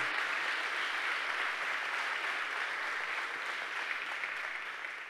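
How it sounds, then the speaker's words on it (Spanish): Steady, sustained applause from a church congregation during a Sunday sermon, a dense even wash of clapping throughout with no voices above it. "Denle un fuerte aplauso entonces a Jesús"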